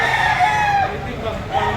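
Rooster crowing among farm chickens from Iloilo, with clucking fowl mixed in; a couple of drawn-out crows ring out close and fairly loud over a busy market background.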